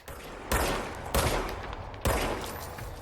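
Gunfire in the video game Control, three sharp bursts of shots about a second apart, loud and close, each trailing off into a noisy tail.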